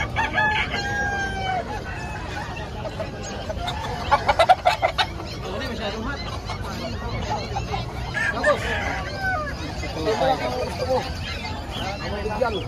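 Many chickens cluck and roosters crow repeatedly across a busy poultry market yard in Bocaue, with people chattering throughout.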